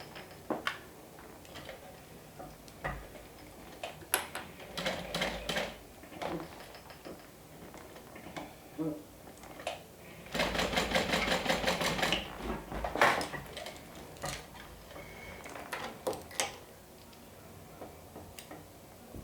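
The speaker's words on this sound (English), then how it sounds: "so now I'm going to stitch down horizontal on that line that I marked and up." A sewing machine stitches a strap for a sew-along bag project in short, rapid ticking runs between pauses, with one longer stitching burst in the middle, close and fairly quiet.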